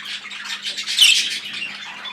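A yellow face opaline bird, a young female from this year's hatch, gives a continuous run of shrill squawks and chatter at close range, louder around the middle, with no voices.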